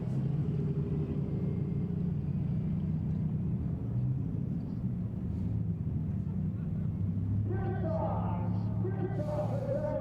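A pace car at Claremont Motorsports Park idles with a low, steady engine rumble for the whole stretch, and an announcer's voice comes in faintly over it near the end.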